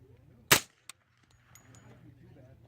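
A single shot from a D3-45SD integrally suppressed .45 carbine gives a sharp, close crack followed by a small metallic clink, then a quiet room tone with faint voices.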